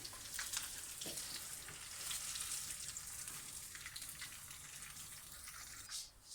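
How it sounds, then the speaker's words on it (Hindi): Beef malai boti pieces shallow frying in oil over a medium-low flame give a steady, moderately close sizzle, with occasional stirring and a brief splashy burst near the end. "तो देखिए इस तरह से हम इसको फ्राई कर रहे हैं।"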